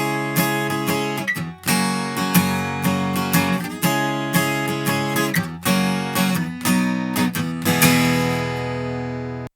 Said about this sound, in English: So here's an acoustic guitar that sounds like this.